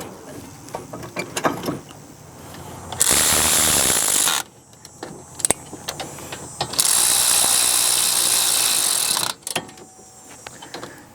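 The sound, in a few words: ratchet installing Honda Accord brake caliper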